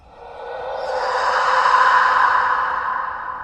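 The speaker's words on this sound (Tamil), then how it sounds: "யாரோ கோபமாக மூச்சு விடுவது போல் பூஸ் பூஸ் என்ற சத்தம்" An angry, huffing breath effect for a horror story: one long, loud exhaled whoosh that swells and slowly fades, heard alone.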